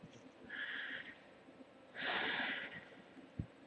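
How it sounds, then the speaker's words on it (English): Breathing through the mouth and nose is picked up by a webcam microphone: two soft, airy breaths about a second apiece, separated by a pause, then a brief low thump near the end, all faint and close. "I can see the difference between my breathing from my mouth and breathing from my nose"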